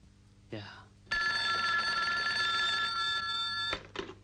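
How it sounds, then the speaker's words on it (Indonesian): An old-style telephone bell rings loudly in one long, continuous metallic trill in a film scene, with a brief voice just before it and another right after. "Tak berselang lama mereka mendapat telepon dari Johnny"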